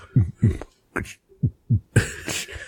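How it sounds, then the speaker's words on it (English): A heartbeat sound effect with a steady series of paired low thumps, fairly close and distinct, followed by a brief burst of broader noise near the end. "Gotta have the heartbeat."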